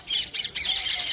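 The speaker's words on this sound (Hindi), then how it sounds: "बहुत पहले से ही यहाँ पर तोता मैना कबूतर बहुत सारा रहता है।" Parrots, mynas and pigeons at an old Hindu temple in Islampur let out several harsh squawks in quick succession, nearby and moderately loud, with a faint voice in the background.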